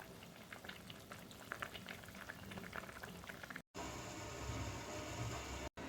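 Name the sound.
karimeen fish curry boiling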